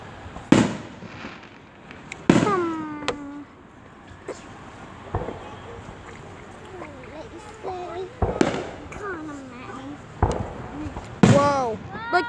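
Independence Day fireworks display in Downingtown, with several sharp bursts spaced apart and crackling, whistling falling waterfall-type fireworks trailing down between them, while people talk and exclaim nearby.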